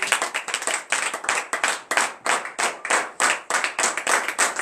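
A church congregation at a morning prayer service in Benin claps in rhythmic acclamation, loud, close bursts of hand claps repeating in quick regular beats throughout.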